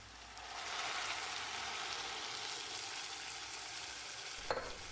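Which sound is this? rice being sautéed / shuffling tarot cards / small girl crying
rice being sautéed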